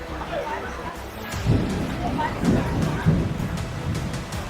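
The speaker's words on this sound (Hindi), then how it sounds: "बहुत तेज बारिश हो रही है, एकदम से बहुत तेज हो गई बारिश।" Heavy rain pours in the mountains on the Kedarnath Yatra route as a dense, steady hiss with low rumbling, and people can be heard talking under it.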